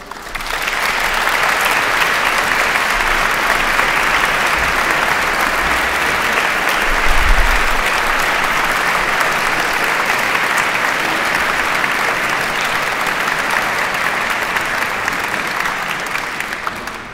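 Steady, dense applause from a concert audience greeting young performers of the Prague Conservatory, a violin, clarinet and piano trio, sustained and even for the whole stretch with no break.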